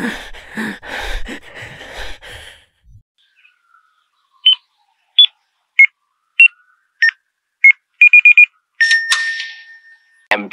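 A muffled rumble gives way to a string of short electronic beeps from a hospital intercom, evenly spaced and then quickening, ending in a longer tone.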